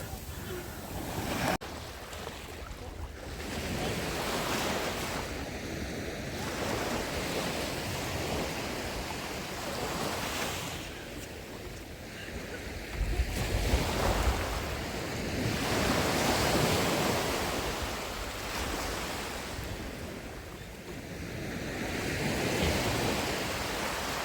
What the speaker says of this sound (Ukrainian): Ми прийшли на море